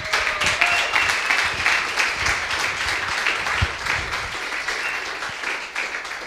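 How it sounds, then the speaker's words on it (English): An audience at a coding bootcamp demo day in Lisbon claps steadily for the students, a dense, sustained round of applause filling the room before fading slightly at the end. "they deserve a round of applause for that"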